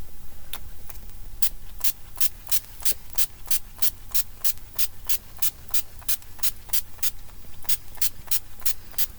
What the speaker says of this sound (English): Stage proof matte setting spray.